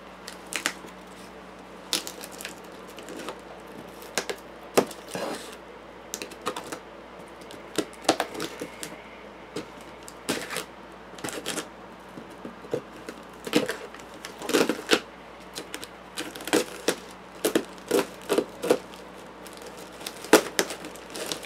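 A steak knife cuts and saws into the cardboard packaging of a Fire Emblem Three Houses Seasons of Warfare box, making scattered sharp clicks, scrapes and crinkles at close range over a faint steady hum, with no talk.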